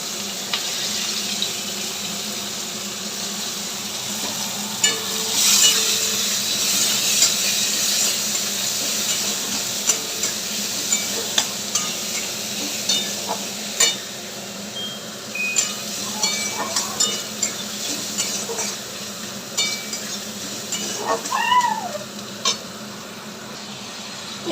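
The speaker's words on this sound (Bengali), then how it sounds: "কড়াই দিয়ে দিলাম পেঁয়াজ" Onions sizzle in oil in a wok, frying as the base for a fish curry; a steady, fairly loud hiss continues throughout with small crackles and clinks, and no one speaks.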